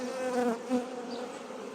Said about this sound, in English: there's lots of bees, lots of busy bees, probably drawing out comb